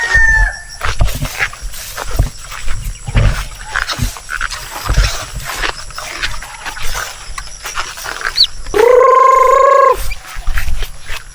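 Chickens and chicks on a small farm cluck and chatter continuously up close, with one louder, drawn-out call standing out near the end.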